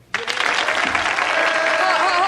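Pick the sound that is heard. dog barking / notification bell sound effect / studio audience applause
studio audience applause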